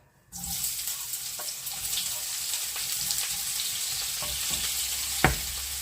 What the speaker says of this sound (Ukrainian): Олійка розігрілась, викладаємо на сковорідку.